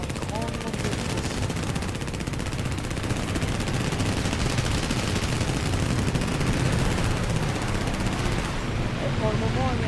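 Rapid, dense machine gun fire from aircraft in the War Thunder combat game rattles on without a break at close range, set against steady engine drone.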